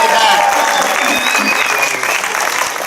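An outdoor crowd at a Bernie Sanders ice cream social in a Warner, New Hampshire community park gives a short burst of applause for a band, steady clapping with a voice audible over it.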